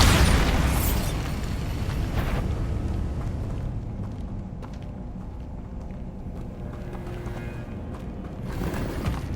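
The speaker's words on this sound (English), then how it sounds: "Bombarda." The Bombarda spell explodes in Hogwarts Legacy as a loud boom, fading into a long rumbling, crackling tail that swells slightly again near the end.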